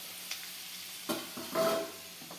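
Mustard seeds and dried red chillies fry in a pan for a banana flower and drumstick leaf stir-fry, giving a soft sizzle with a few stirring scrapes and brief crackles, close and fairly quiet, with no talking.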